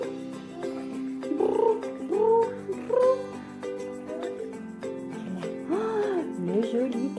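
A cat meows several times in short rising and falling cries, close and fairly loud, with a voice chatting in French around the calls.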